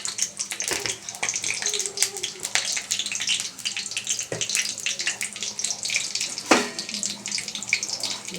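Cumin seeds and onions sizzling in hot oil in a wok, a dense steady crackling hiss with scattered sharp pops, close by, with voices talking faintly in the background.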